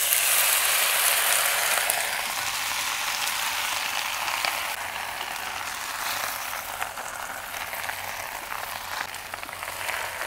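Hadga flowers fry in a hot kadhai with a steady hiss and crackle, loudest at first and then settling into a softer sizzle.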